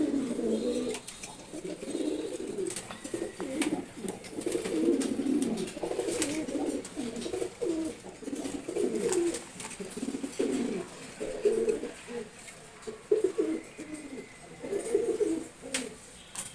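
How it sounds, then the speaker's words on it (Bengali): Several pigeons coo steadily in a new loft holding about eight birds, soft overlapping throaty calls repeating close by throughout with faint background noise. "আর অনেক কবুতর রাখা যাবে মাত্র আটটা কবুতর রাখছি"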